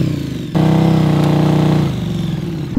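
A KTM 1290 Super Duke R Evo 2022 motorcycle opens to full throttle, its engine jumping to a loud, steady, throbbing roar up close after a brief lower idle, with no talk.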